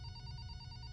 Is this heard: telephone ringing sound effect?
yes